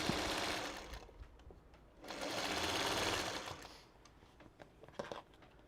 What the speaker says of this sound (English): I'm just going to chain stitch all of these together like I did with the last